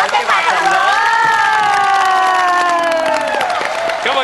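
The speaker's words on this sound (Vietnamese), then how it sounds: "Nếu thấy hợp tay vỗ tay thật lớn." A game show studio audience claps and cheers loudly and steadily, with a bright rising tone sweeping through the noisy applause.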